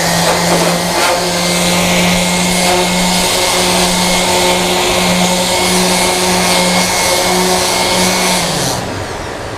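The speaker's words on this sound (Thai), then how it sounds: "เราจะเปิดเครื่องดูดฝุ่นนะครับ" A household vacuum cleaner runs steadily with a loud, constant motor whine and airflow roar, close by with no talking, then spins down near the end.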